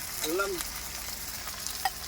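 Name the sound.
ginger garlic masala sizzling while roasting in pan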